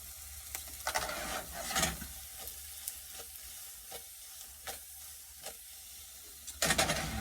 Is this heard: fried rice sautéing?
yes